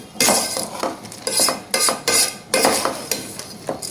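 A spoon scraping and clinking against a metal pot while salt and masala are stirred into vegetable pulav, with repeated rhythmic metallic knocks and scrapes, close and loud, no talking.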